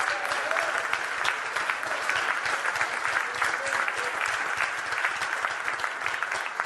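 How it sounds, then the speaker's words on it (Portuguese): Church congregation applauding God with loud, steady clapping that fills the whole stretch without a break, dense and sustained from start to finish. "Você pode aplaudir forte a Deus"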